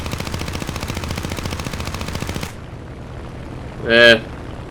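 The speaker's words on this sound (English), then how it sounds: "Can I maybe get a shot on him with a nose turret?" An aircraft nose turret gun in War Thunder fires a rapid, steady burst for over two seconds and then stops, leaving quiet engine drone before a short whistling tone.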